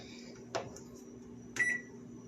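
A kitchen microwave oven running with a steady hum, then two short, close beeps about a second apart as it finishes.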